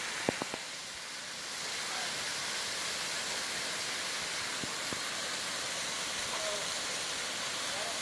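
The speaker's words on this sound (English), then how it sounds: "and a waterfall back over that way" A waterfall in the steep Rock Creek ravine in Laurel County, Kentucky, gives a constant, even hiss of rushing water from a distance, with a few brief knocks near the start.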